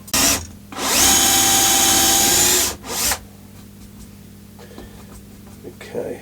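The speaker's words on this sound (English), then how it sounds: "if I'm going to drill the hole in the same direction as the angle" A power drill bores a hole in willow wood in one long, loud, close whine of about two seconds, preceded and followed by short bursts, then quiet handling noises.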